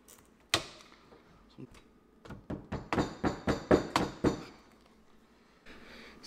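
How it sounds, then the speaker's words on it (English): A hammer taps a plastic tee into a bracket hole under a dishwasher: a single knock, a short pause, then a run of about ten quick, sharp blows before it goes quiet. "Then we'll just tap it again with the hammer to make sure it's all the way up in there."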